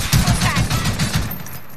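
Rapid bursts of gunfire crack through a Call of Duty Warzone match, loud and close, firing in a steady fusillade before tapering off near the end.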